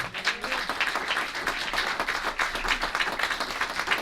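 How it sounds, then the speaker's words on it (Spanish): A church congregation applauds during a sermon, steady mid-level clapping that goes on throughout, with a faint voice briefly under the start. "denle un aplauso a Dios"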